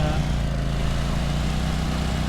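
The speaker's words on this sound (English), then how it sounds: "Not exactly Buddhist to be mowing the lawn" A steady, droning lawn mower engine from the Lawn Mowing Simulator video game, a constant low buzzing hum with even loudness and no voices over it.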